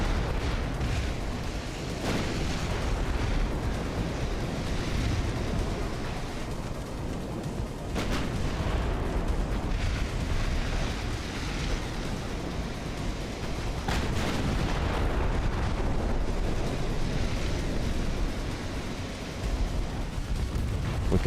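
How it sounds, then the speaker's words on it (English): Naval battle in Ultimate Admiral: Dreadnoughts, set in 1902, as battleships trade fire: a continuous dense rumble of distant artillery with repeated heavy booms rising over the din, no voices. "While battleships are trying to exchange shots."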